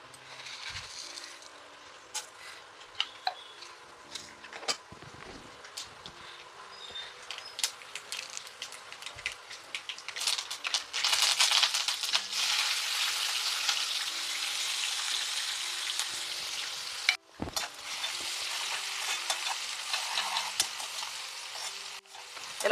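Peanuts, tempering seeds and curry leaves fry in a pan for upma, starting with scattered crackles and stirring clinks, then building into a loud, steady sizzle that runs continuously with a brief break near the end.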